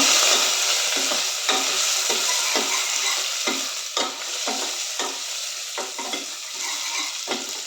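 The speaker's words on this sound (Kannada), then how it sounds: "ಇಷ್ಟನ್ನ ಹಾಕಿ ನಾವು ಒಗ್ಗರಣೆ ಮಾಡ್ಕೊಳ್ಳೋಣ." Cumin, garlic, Byadagi chillies and curry leaves sizzle in hot oil for a tempering, with steady frying crackle broken by repeated scrapes and clinks of a spoon stirring against the pan.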